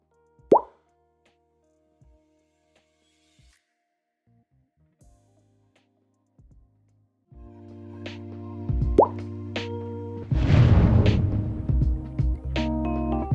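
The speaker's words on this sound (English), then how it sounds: "I'll place a flash zoom in between these two clips" A flash zoom transition effect in Filmora: a soft plop near the start, then quiet with scattered faint ticks, before a denser swell of tones and a bright whooshing burst in the second half.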